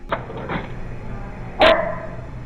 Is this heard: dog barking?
yes